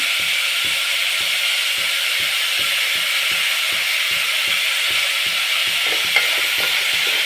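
Onion and turmeric frying in an oily pan for hotel-style set dosa, a loud steady sizzle with a regular rhythmic tapping of a spatula against the pan, close and without voices.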